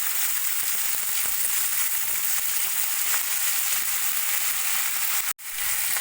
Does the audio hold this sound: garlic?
yes